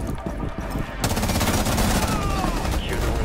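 Rapid gunfire in the Rainbow Six Siege video game on PS4, a dense stream of shots that grows louder and steadier after the first second, with game sounds layered underneath.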